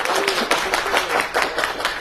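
A crowd at a campaign event for a CHP mayoral candidate in Odunpazarı, Eskişehir, claps in steady bursts of applause, fairly close and loud, with no talk over it.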